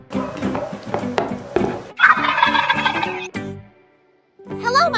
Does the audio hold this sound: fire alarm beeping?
no